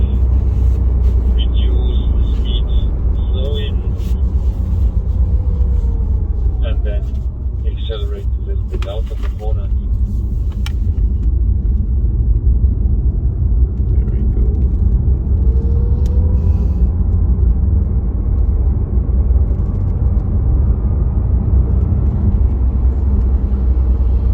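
Audi RS e-tron GT, a 640 hp four-door electric car, accelerating and braking on a race track: a continuous low rumble and road roar with a faint rising electric whine, while a voice talks throughout.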